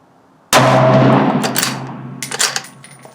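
A Ruger American Ranch rifle in 7.62x39 fires Belom 123 gr ammunition at a range: one loud, sharp report that rings out and slowly decays, followed by a few faint clicks.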